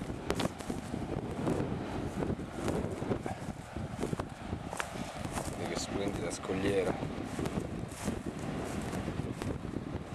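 Strong wind gusts over the microphone on a coastal clifftop at Ahu Tongariki on Easter Island, a rough, continuous rumble that swells and fades while a person speaks briefly.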